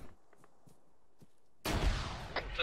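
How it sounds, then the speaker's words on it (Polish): In the Arma 3 video game, a single loud gunshot cracks after near-silent faint ambience, followed by a second, sharper report. "Słyszę wystrzały."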